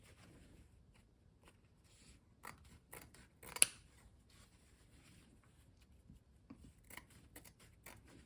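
Scissors snip through the fabric seam allowance of a backpack strap, giving a series of quiet, sparse, close-up cuts at an irregular pace with one sharper snip, in an otherwise hushed room.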